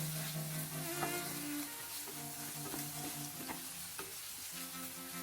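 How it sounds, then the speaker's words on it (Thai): Ingredients stir-fried in a pan with ground pepper and sugar, a steady sizzle and scraping of a spatula with occasional clacks against the pan, close and continuous with no talking. "ผัดทุกอย่างให้เข้ากันเลย"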